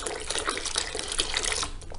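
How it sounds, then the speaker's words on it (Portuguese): Water pours steadily into a cooking pot, several liters added to a thickening mixture, giving a continuous splashing, gurgling stream at close range for about two seconds. "Vou colocar mais 2 litros de água, que vai totalizar 5 litros de água aqui."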